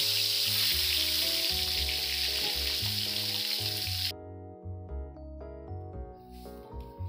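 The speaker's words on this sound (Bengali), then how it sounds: "এখানে ডিমগুলোতে আমি হলুদ লবণ মাখিয়ে গরম তেলে ছেড়ে দিলাম। এখন ডিমগুলো ভেজে নেব।" Eggs coated in turmeric and salt hiss loudly in hot oil, a dense bright sizzle that carries steadily for about four seconds and then stops abruptly.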